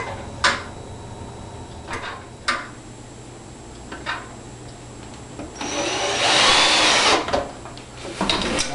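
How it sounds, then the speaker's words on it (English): Screws being driven into the bottom of a can with a power tool, sharp clicks and short bursts followed by a longer whirring run, close and fairly loud with no talk. "As long as I'm screwing on the bottom,"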